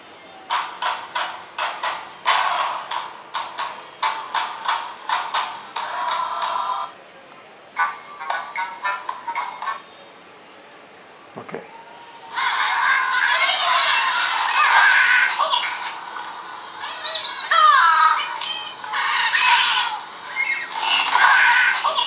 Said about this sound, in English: I would want to see Angry Birds on this.